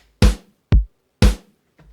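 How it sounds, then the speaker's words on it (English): A programmed electronic snare in Ableton strikes four times on beats two and four, each hit sharp and bright with a short decay, dry and alone. "And I'm going to put the snare on the second and fourth beats."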